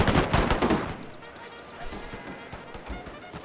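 Rifle volley fire in a video game battle of the Anglo-Zulu War: a dense burst of overlapping gunshots at the start, then scattered crackling shots at varying distances over a low battle din.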